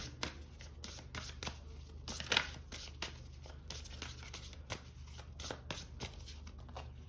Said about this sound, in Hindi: एक और कार्ड निकालते हैं यहाँ पे आपके लिए।